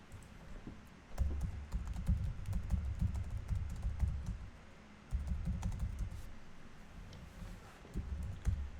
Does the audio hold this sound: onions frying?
no